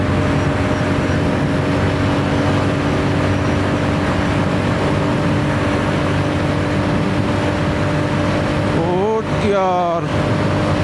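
A Royal Enfield Classic 350 motorcycle engine roars steadily at high speed as the rider climbs through the gears, with one brief shift dip near the end amid constant wind rush.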